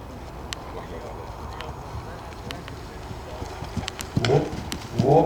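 Horse hooves thud and clatter on the ground during a show jumping session. A quiet background runs for about four seconds, then two louder bursts of clip-clop arrive close together near the end, with voices talking underneath.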